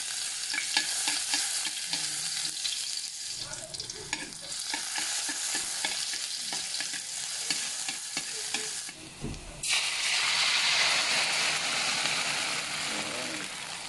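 Garlic and abalone sautéing in cooking oil, loud close sizzling with stirring scrapes and clatter, swelling into a brighter, denser hiss near the end; no talking.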